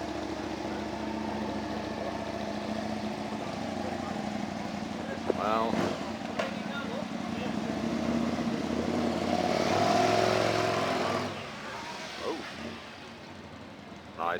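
A used 2005 Ducati Multistrada 1000 DS engine runs steadily, with a low rumble that swells briefly near the middle and then settles. A person makes short exclamations over it.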